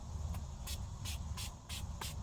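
Six quick hissing spritzes of rose water from a spray bottle, evenly spaced, close and soft against a low background rumble.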